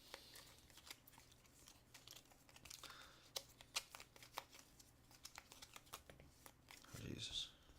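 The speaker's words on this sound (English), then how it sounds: "Shuffle these cards up." Playing cards for the Ankh: Gods of Egypt board game being shuffled at a table in quick, irregular riffling and slapping bursts, fairly faint, with a voice murmuring briefly.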